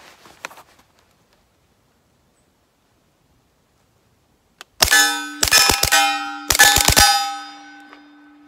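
An AR-15 with a 9mm upper fires 147 grain rounds in quick clusters of sharp, ringing cracks, each followed by a short metallic ring, after a long quiet pause.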